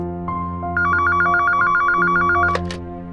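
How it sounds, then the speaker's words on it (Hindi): A telephone rings in a rapid warbling trill lasting about two seconds, loud and close, over a steady background hum, followed by a couple of short clicks. "अच्छा जरा फोन उठा।"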